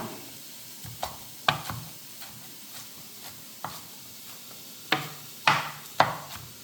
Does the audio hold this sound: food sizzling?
yes